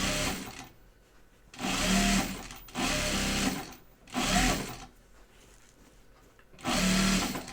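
A sewing machine stitches fabric pressed tight against cording, running in four separate bursts of steady mechanical whirring with short quiet pauses between them.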